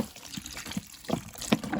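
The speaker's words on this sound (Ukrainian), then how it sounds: "Просто заливаю звичайною холодною водою" Plain cold water is poured from close by over soaking nettles and sunflower seed cake, mixing chicken feed in a garage, giving brief uneven splashes and trickles.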